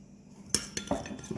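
Utensils toss a Greek salad with cherry tomatoes and olive oil in a bowl, giving a few quick, close clinks and soft scrapes in an otherwise quiet moment.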